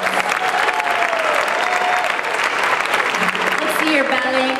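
An audience applauds a violinist at a live CD launch concert for children's music, with steady sustained clapping at close range and a few faint violin-like tones and voices underneath.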